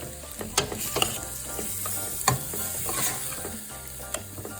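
Red peppers sauté over low heat in a pan with a soft, steady sizzle, broken by a few sharp scrapes and clinks as they are stirred.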